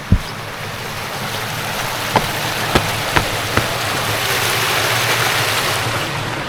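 Broadband rushing water pours steadily nearby over an overflow at Drakeholes, a constant wash with a few sharp clicks scattered through it.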